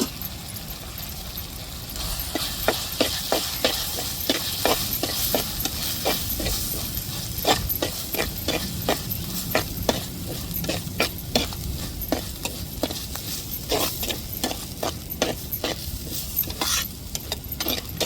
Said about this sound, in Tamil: மசாலாவும் நல்லா வதக்கி விட்டாச்சு.